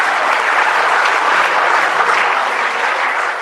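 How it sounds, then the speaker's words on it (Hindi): A large audience at a state-level children's rights week inauguration gives a sustained round of loud, dense applause, steady throughout with no voices over it. "एक बार जोरदार तालियों से उनका स्वागत और अभिनंदन"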